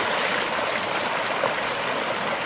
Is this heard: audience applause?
no